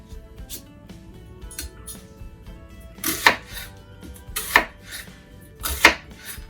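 A knife chops onions on a cutting board: a few light taps, then three sharp, well-spaced chops, close and distinct against a quiet room.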